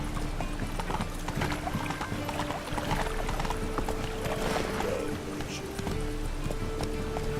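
Horse galloping in The Witcher 3, a fast continuous clatter of hooves over dense game ambience and music, loud and steady throughout.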